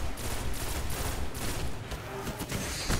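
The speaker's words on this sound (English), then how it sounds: "Another rifle." Rifle fire in the Destiny shooter game, a dense, continuous barrage of rapid shots with heavy low rumble, sustained at steady loudness throughout with no talk.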